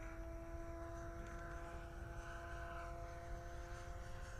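FMS 1400mm Olympus F3A radio-controlled aerobatic plane flying a rolling circle, its electric motor giving a steady high-pitched whine over wind and rumble, held at an even level throughout.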